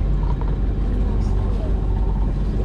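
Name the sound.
boat engine running after being started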